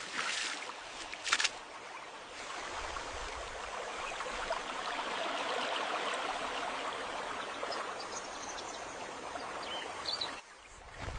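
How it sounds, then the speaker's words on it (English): Rushing water of a winding forest river, a steady broadband wash that runs continuously throughout, close and fairly loud, with a couple of brief sharper splashes near the start. "The sound of rushing water guides their path"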